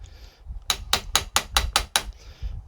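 A hammer taps stainless steel fret wire into a guitar fretboard in seven evenly spaced, crisp metallic strikes, close and loud, with quiet pauses at either end.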